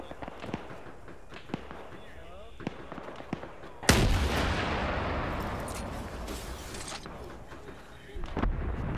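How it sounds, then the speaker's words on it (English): An RPG rocket launcher fires in a video game and a loud blast erupts about four seconds in, its roaring debris fading slowly. Scattered crackling gunfire comes before it, and voices talk in the background. "After I got another RPG off."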